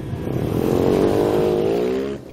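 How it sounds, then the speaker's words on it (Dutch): Motorcycle at a junior NSF100 Cup race revving hard in one loud rising-then-falling engine sweep, close by and alone without speech. "zoals je ziet, ik rijd motor."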